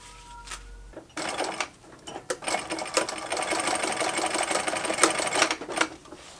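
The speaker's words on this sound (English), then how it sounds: "I'm going to sew this panel and this assembly onto the pocket assembly at the same time" A sewing machine stitches a giant duffle bag's panel onto its pocket assembly, starting after a quiet pause and running in a steady rapid whirring chatter with a few short stops and restarts, close and without speech.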